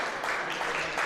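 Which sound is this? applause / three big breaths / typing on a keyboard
applause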